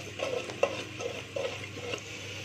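Spices for a desi mutton curry being stirred and fried in a pan, with a steady sizzle and repeated scraping strokes of a spoon close by, no talking.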